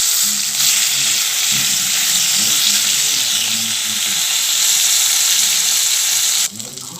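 Fish frying in hot oil, a loud, dense, continuous sizzle heard close up, steady throughout before cutting off abruptly near the end.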